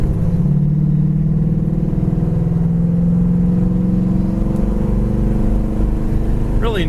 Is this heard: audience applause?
no